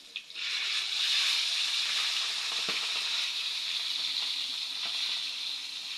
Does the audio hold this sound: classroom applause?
no